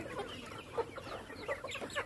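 Sonali chickens on a poultry farm cluck in short, repeated bursts at close range, several birds overlapping over a steady barn background with no talking.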